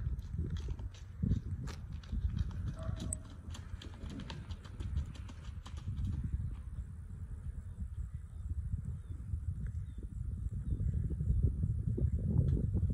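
A horse in a short lope drums out soft, rhythmic hoofbeats on the ground, a steady rolling beat that carries on alone for several seconds and swells slightly louder toward the end.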